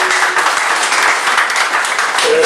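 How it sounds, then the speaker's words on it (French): Steady, dense applause from a church congregation at a prophet's deliverance service, loud and continuous throughout with a brief voice near the end. "applaudissez"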